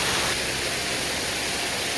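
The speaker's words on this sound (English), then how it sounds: "Teviot Falls." Teviot Falls in Main Range National Park, Queensland: a steady, close roar of falling water, a broad unbroken hiss with no pauses.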